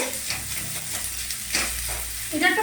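A spice masala fries in a pan over medium heat, its soft continuous sizzle broken by a few scraping stirring strokes near the end.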